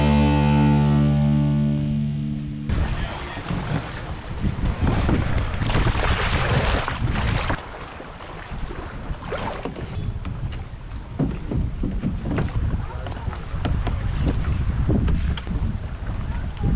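Canoe paddle pulling through the water in repeated draw strokes on open water, with gurgling water swirls and steady wind buffeting the microphone throughout, heard alone with no talking.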